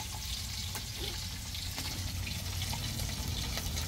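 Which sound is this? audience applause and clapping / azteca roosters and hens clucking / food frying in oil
food frying in oil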